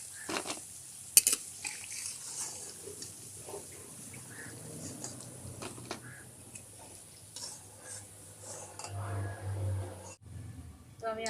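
Pumpkin leaf pakoras fry in hot oil, a soft continuous sizzle with occasional clinks and scrapes as pieces are lifted out one by one, moderately quiet, with faint speech in the background.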